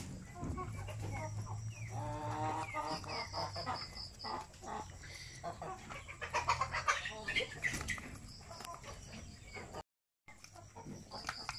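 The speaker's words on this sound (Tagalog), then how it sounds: "Yung ganitong manok ang lakas talaga nilang kumain oh." Chickens cluck and squawk busily while eating feed in a noisy coop, with scattered pecking and rustling, a brief dropout near the end.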